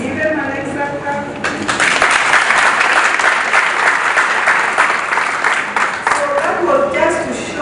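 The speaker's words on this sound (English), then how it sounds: "Give him an extra clap." Graduation audience at an academy breaks into loud, sustained applause, many hands clapping densely and close, swelling after a brief spoken moment and continuing strongly, with faint voices underneath.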